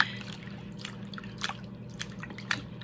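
Freshly harvested herbs are swished and tossed in a bowl of water for washing, giving soft scattered drips and small sloshes over a low steady hum.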